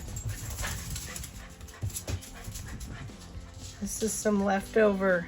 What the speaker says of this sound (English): you can hear my dogs horsing around in the background.